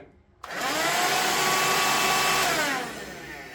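A small 8.4-volt cordless handheld vacuum switches on abruptly and runs with a loud, steady high-pitched whine, then winds down slightly at the end.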